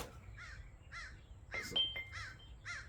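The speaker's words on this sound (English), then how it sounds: "A lot of birds." Crows caw in a fairly regular sequence of five or six hoarse calls, mid-distance outdoors over a low steady hum, with a brief thump partway through.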